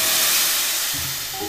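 A boa constrictor gives a long, steady breathy hiss, loud and close, which fades slightly toward the end, with no talking.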